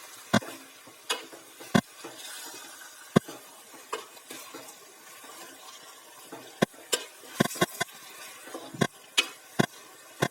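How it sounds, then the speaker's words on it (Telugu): A spoon stirs chicken pieces with fried onions, green chillies and curry leaves in hot oil. Sharp clacks against the pan sound at irregular intervals over a steady soft sizzle, with no talking. "నూనెలో బాగా వేగిన ఉల్లిగడ్డలు, పచ్చిమిర్చి, కర్రీ లీవ్స్ మొత్తం ఈ చికెన్ ముక్కలకు బాగా కలిసే విధంగా కలుపుకోవాలి."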